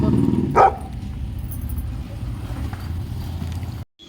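A single sharp dog bark at a vehicle rings out over a steady low engine rumble.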